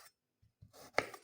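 A knife chops tomatoes on a board for a Lebanese fattoush salad, with a few quiet, separate taps ending in one sharper, louder chop.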